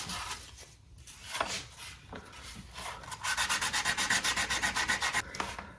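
Steady hand polishing of a handmade amulet prop, starting as scattered scrubbing strokes and building into a fast, even run of rhythmic rubbing passes, close and fairly loud with no talking.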